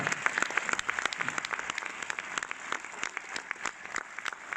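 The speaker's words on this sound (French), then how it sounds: "Et puis, vous pouvez applaudir." An audience at a film premiere evening applauds, dense sharp clapping from a fair-sized crowd heard at a distance, steady throughout with little talk.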